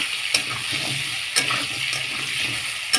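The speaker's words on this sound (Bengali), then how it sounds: "এটাকে ভালো করে নাড়ব।" Sour shol fish curry with homemade amchur is stirred in a hot pan. Steady close sizzling runs under a few sharp scrapes of the spoon against the pan.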